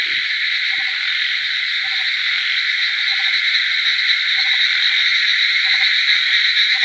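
Frogs croak on a rainy night in rural Odisha, a dense continuous chorus of calls with steady insect-like buzzing, close and loud without pause.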